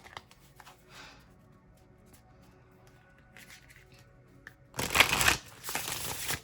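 A deck of slightly sticky tarot cards shuffled by hand, heard as a loud, close burst of riffling and rustling near the end after a mostly quiet stretch with a few faint handling sounds.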